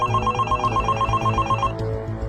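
A phone rings steadily in a PUBG Mobile short film, a rapid electronic ringtone pulsing in a regular repeating pattern, loud and close, with no one speaking over it.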